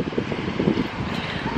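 Cold wind blows at Stânca-Costești lake on the Prut river in Moldova, a continuous low rumbling buffet across the microphone with gusty fluctuations, close and fairly loud.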